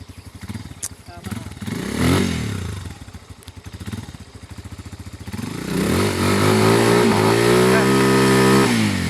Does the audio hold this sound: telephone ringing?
no